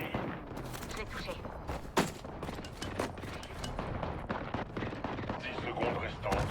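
Gunfire in the Apex Legends video game, with dense rapid shots and bursts running continuously alongside other game sounds and one sharper crack partway through.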